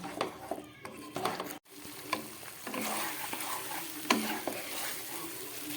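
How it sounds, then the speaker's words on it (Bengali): Cauliflower florets being stir-fried with spices in a pan, roasted as a vegetarian dish, with steady close sizzling and frying broken by scraping stirs and occasional clinks of the utensil. "সমস্ত মশলা দিয়ে আমার ফুলকপিগুলো কষানো হয়ে গেছে।"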